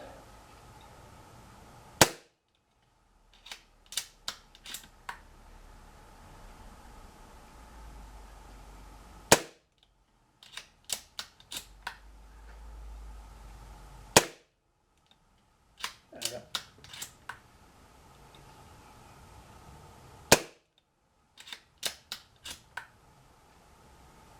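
A Daystate Select air rifle fires pellets through a chronograph. Sharp, close cracks arrive in repeated clusters of several shots with short pauses between them, over a low background hiss.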